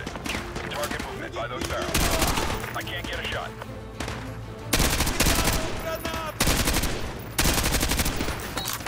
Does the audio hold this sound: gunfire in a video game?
yes